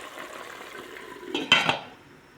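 A lid is set back onto a cooking pot of chicken adobo with lemongrass and carrots, giving a quick metallic clatter and clink after a soft simmering background, with no talking.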